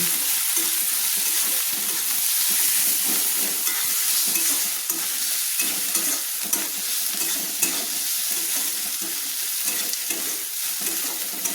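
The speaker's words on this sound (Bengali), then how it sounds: "দিয়ে ভালো করে আমি কিন্তু একটু তেলের সঙ্গে কষিয়ে নিচ্ছি।" Ginger and garlic paste sautés in hot oil while being stirred for a katla fish finger snack, a steady close sizzle with soft scraping strokes running throughout.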